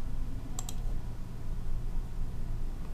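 A mouse clicking a login button: two quick, crisp clicks close together near the start, then quiet room noise.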